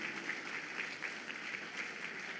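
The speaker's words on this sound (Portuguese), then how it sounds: "Aplauda o Senhor." A congregation applauds during a church sermon, a faint, even wash of many hands clapping heard from a distance, steady throughout with no voices over it.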